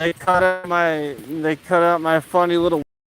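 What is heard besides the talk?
No everyday noise stands out behind the speech.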